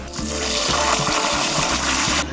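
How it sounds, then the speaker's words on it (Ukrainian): Water gushes steadily and loudly into a planting hole dug in garden soil, a continuous splashing pour lasting a couple of seconds before cutting off. "Нужно э, размешать воду с землей до консистенции густой сметаны."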